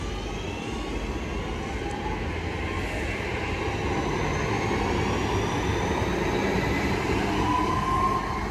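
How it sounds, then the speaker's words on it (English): A Class 323 electric train pulls out of a station at Newton-le-Willows bound for Manchester Airport, a steady broad rumble and rail hiss with a faint rising whine, continuous and close throughout. "Train now departing is a 323 going to Manchester Airport."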